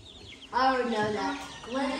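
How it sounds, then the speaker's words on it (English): Backyard chickens being fed mealworms, a few close clucks and chirpy calls rising over quiet background, with voices nearby. "So the chickens, they'll get after you because we give them mealworms."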